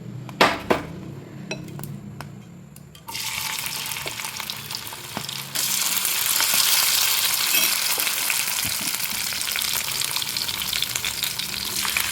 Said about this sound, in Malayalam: ഒരു തവയിൽ കുറച്ച് വെളിച്ചെണ്ണ ഒഴിച്ച് ഒന്ന് ഫ്രൈ ചെയ്തെടുക്കാം